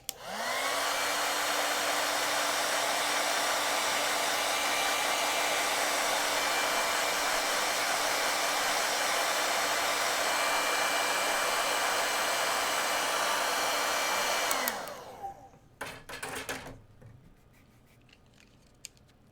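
A hair dryer blows loud and steady for about fifteen seconds, drying watercolor paint on a rose painting, then shuts off abruptly and leaves faint handling noises.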